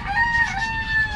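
A gamecock rooster crows close by, a loud sustained strained call with a steady pitch, filling the whole short moment.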